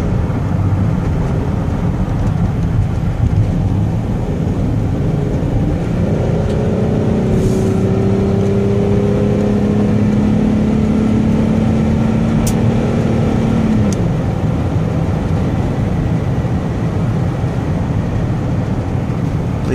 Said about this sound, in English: I'm gonna give it some gas so you can hear the engine run. And so you can hear it shift through all the gears.